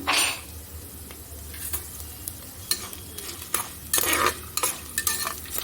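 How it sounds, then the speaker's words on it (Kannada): Cumin seeds tipped into hot oil for aloo bath crackle and sizzle softly, with metal spoon scrapes and stirring clinks against the pan coming in irregular bursts. "ನಾನು ಜೀರಿಗೆ ಹಾಕ್ತಾಯಿದ್ದೀನಿ ಎರಡು ಸ್ಪೂನು"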